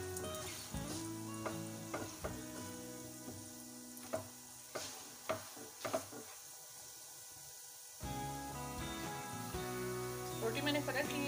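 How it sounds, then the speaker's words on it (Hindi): A roti made from maize flour (makki ki roti) fries in a pan with a steady, soft sizzle, broken by a few sharp taps and scrapes as it is pressed and turned. A voice talks over it at times. "रोटी मैंने फ्राई की है"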